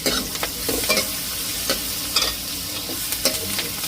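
Mustard seeds sizzle and crackle in hot oil, a loud, close, dense frying hiss with frequent quick spoon strokes and scrapes against the pan, no speech.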